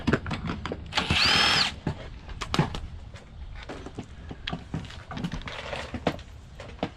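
A power tool spins bolts off a 24-inch Craftsman snowblower during carburetor work, with one sustained whirring burst followed by scattered clanks and knocks of metal parts, close and fairly loud.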